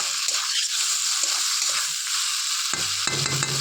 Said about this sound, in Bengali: এটা তো কষতে থাকি